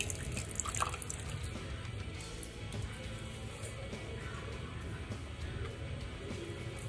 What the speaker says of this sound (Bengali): আর এরকম একটা ঝুড়ি দিয়ে আমি আপাতত রেখে দিই, জলটা ঝরাই।